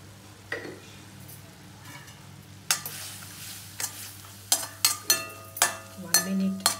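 Lemon rice ingredients with turmeric and salt frying in a pan, a quiet sizzle broken by a series of sharp metallic clanks as a spoon strikes the pan, building toward the end.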